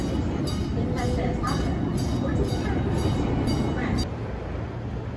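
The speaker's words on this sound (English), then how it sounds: "we are gonna wait for the train to go on by." An amusement park train rolls past on its tracks at Busch Gardens, a steady low rumble with repeated rhythmic clacks of wheels over rail joints, fairly close, easing off near the end, with faint crowd voices beneath.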